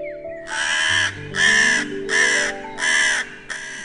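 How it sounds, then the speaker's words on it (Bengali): A cartoon crow caws four or five times in a loud, harsh, evenly spaced series, close and clear, with a soft rising tone underneath and no speech. "যখনই কাক গান গাইতে শুরু করলো"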